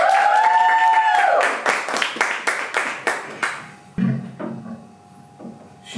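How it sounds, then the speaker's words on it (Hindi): An audience welcoming a speaker at a Hindi poetry performance with a short burst of rhythmic clapping after a musical tone, the claps thinning out and fading, then a few scattered sounds. "तालियां तालियां तालियां"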